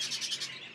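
Sky blue budgerigar, a split recessive show bird in a breeding stud, giving a rapid series of four or five bright, high chirps close by, then fading into quieter twittering with no talk.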